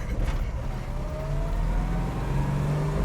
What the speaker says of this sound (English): 440 making some power. 6-pack, you could hear that 6-pack kick in there a little bit